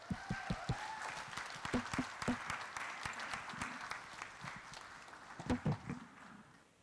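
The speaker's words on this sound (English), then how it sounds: "So please give John a round of applause." Applause at a city council meeting, a light, scattered patter of clapping from a small audience in a chamber, fairly distant and quiet, with a few louder claps and faint voices underneath.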